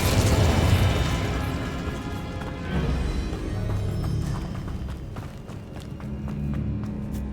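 Incendio fire spell cast in the Hogwarts Legacy video game: a sustained loud whooshing, roaring burst of flame that rumbles and churns for several seconds, then gives way to scattered crackles and pops.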